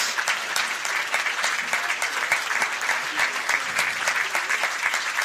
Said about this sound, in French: Allez, sous les applaudissements.